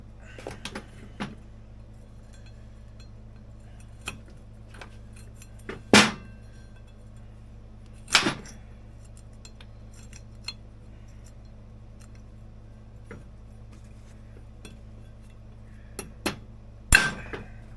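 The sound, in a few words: chisel hammered on steel retaining ring of Polaris clutch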